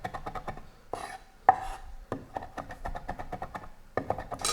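A cleaver chops food on a cutting board in quick, rhythmic bursts of sharp knocks, some rocking back and forth, close and fairly loud with brief pauses between runs.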